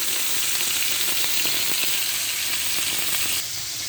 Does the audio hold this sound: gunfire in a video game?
no